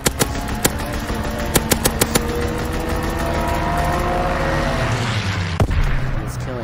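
Strafing gunfire from a fighter pilot airstrike in Call of Duty, rapid bursts of shots cracking over a dense, roaring battle din with engine-like rumble, loud and continuous throughout.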